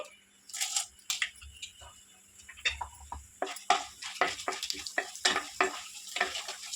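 Mustard seeds, cumin and chana dal fry in hot oil for a cabbage and egg stir-fry, giving close, busy crackling and sharp popping bursts that grow denser toward the end.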